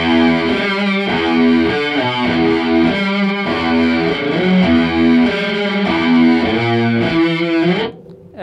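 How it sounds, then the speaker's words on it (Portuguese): Electric guitar played through Big Muff fuzz with chorus, a thick, saturated chordal riff in a steady rhythm, loud and close, ringing out then cutting off abruptly near the end. "É o som do grunge, do stone, do sei lá. É fuzz e chorus."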